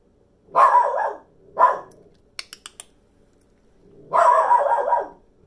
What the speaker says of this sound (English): Is that dog back in our yard?